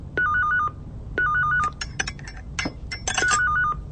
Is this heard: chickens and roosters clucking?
no